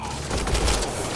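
Gunfire in the sci-fi shooter Mass Effect Andromeda, a dense burst of several overlapping shots with booming low thuds, sustained and loud across the moment with no talk over it.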